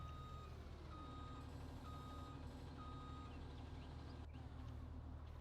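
A truck in Farming Simulator 19 reverses, its steady, evenly spaced backup beeps repeating over a low, constant engine rumble, fairly quiet and with no talking.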